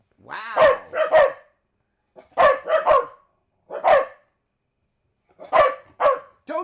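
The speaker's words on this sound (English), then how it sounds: "Don't stop barking because you hear him barking." A dog barks in short, loud, close bursts, with clusters of two or three sharp barks separated by silent pauses and no talking over them.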